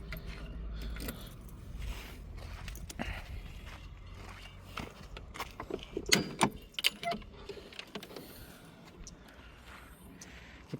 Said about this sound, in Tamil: இதோட பானட்டை ஓப்பன் பண்ணுறதுக்கு சாவி மூலமாக ஓப்பன் பண்ணுற மாதிரிங்க.